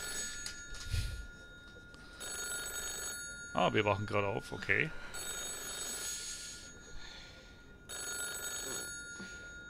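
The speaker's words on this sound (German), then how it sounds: "Und es klingelt das Telefon." Telephone rings in a video game set in Berlin on 9 November 1989, a loud repeating electronic bell sounding in bursts over steady game ambience, with someone speaking briefly between rings.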